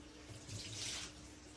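Water running from a tap into a cooking pot while preparing Iraqi kebab, a steady close splashing stream that swells slightly in the middle, with no talking.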